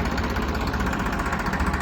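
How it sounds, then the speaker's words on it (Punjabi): Tractors in Punjab, a Farmtrac 60 among them, with an engine running at a steady idle. The low, throbbing rumble is close and continuous, with no voices over it. "ਲੋ ਜੀ ਦੋ ਟਰੈਕਟਰ ਪਾ ਕੇ ਇਕੱਠੇ ਤੋਰਤੇ ਜੀ"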